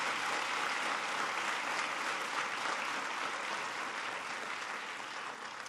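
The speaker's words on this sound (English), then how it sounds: "I noticed some of the parents were the first to clap." Audience applause at an education and economy event where the President speaks, with parents among those clapping; steady, dense clapping throughout from a large crowd, slightly fading toward the end.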